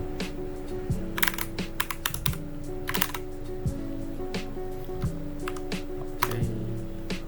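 Password being typed on a computer keyboard during a Proxmox setup, a run of quick clicky keystrokes in irregular bursts over a steady low electrical hum, with no talking.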